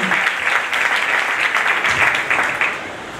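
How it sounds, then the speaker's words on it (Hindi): A church congregation at a first-anniversary service of a Karachi Assemblies of God church claps loudly and continuously, a thick sustained round of applause that tapers slightly near the end. "आप सबकी भरपूर तालियां"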